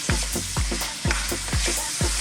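Sweet potatoes fry and sizzle in a pan while being stirred, with repeated scraping strokes about twice a second over a steady close, loud crackle.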